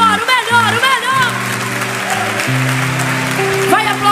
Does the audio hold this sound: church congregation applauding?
yes